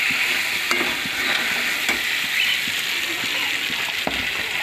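Bitter gourd and potatoes fry in hot oil on a gas stove, a continuous bright sizzle with occasional soft scraping strokes as they are stirred, even and close throughout.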